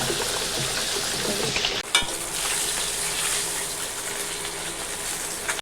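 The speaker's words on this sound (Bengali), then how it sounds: "মাছের মাথাগুলো একটু ভেজে নিচ্ছি আগে" Fish heads fry in hot oil in a pan, giving a loud, continuous sizzle with a brief clatter of stirring partway through.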